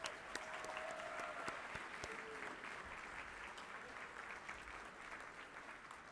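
Sustained applause from a graduation audience honoring Air Force award recipients, a dense steady wash of many hands clapping at moderate level, with a few faint tonal sounds under it and no talk.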